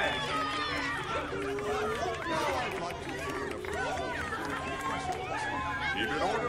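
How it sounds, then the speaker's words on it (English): In the Minecraft Story Mode video game, a dense crowd murmurs and chatters around the player, a steady babble of many overlapping voices. "We just gotta push through this crowd to get to Gabriel"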